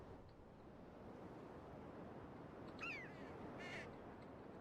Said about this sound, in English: I did add all the sound scenery here, so we got birds and shit calling in my ears